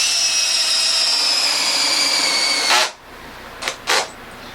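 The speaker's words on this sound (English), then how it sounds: "I've got my Makita with the 5/8 inch bit here." A Makita drill with a 5/8 inch bit bores into very hard, dense Brazilian cherry (jatoba) wood, a steady high whine for almost three seconds, then it stops and two short bursts of drilling follow.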